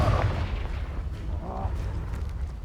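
A Confringo fire-blast spell in Hogwarts Legacy bursts with a low, rumbling boom, followed by a faint whoosh and lingering crackle, loud and close.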